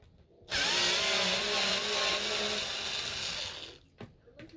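A power drill removing the neck bolts from a vintage Guild bass guitar: one close, steady whirring run of about three seconds, with a few faint clicks afterward.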